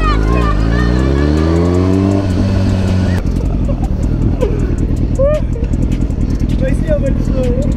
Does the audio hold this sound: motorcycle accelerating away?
yes